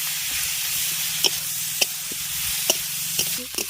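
Onion frying in a pan with ground thankuni leaf paste, a steady close sizzle broken by a few sharp clinks and scrapes of a spatula stirring, with no talk.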